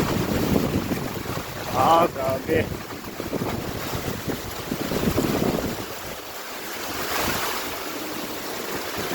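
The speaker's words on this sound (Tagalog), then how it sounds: "Grabe ang lakas ng hangin, tapos lakas ng ulan." Strong typhoon wind and heavy rain during Typhoon Kristine flooding, with deep floodwater behind a house; a steady broadband roar of gusting wind and rain with microphone buffeting, someone speaking over it early on.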